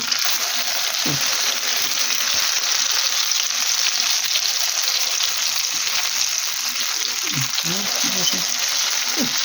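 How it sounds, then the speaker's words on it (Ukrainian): Steady, dense crackling sizzle of zucchini and potato fritters frying in an oiled pan, continuous throughout, with a few soft clinks and muffled sounds in the background. "вони смажуться з однієї сторони, потім з другої."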